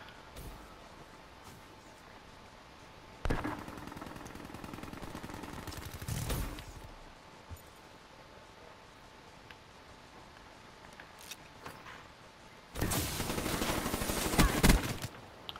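Bursts of automatic gunfire from the video game Call of Duty Black Ops 3 come in three loud volleys separated by quieter stretches of game ambience.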